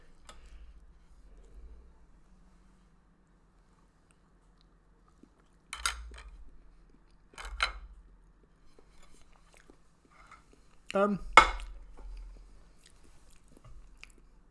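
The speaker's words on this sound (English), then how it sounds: "Let's see what this avocado tastes like." Someone bites into and chews avocado up close, with a few soft, brief, moist chewing bursts separated by long quiet pauses.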